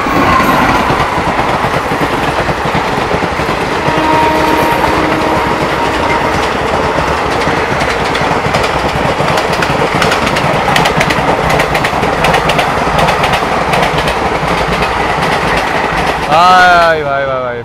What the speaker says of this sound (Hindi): अभी ऊंचार एक्सप्रेस आ रही है सामने से, तो उसकी क्रॉसिंग दिखाते हैं।